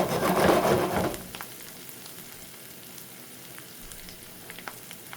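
Garlic dropped into a hot pan for pasta arrabbiata bursts into a loud sizzle that quickly settles to a quieter, steady frying hiss with a few small pops and clicks.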